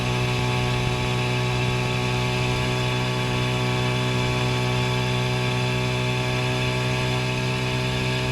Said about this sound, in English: what you couldn't pick up there was it was only running on one cylinder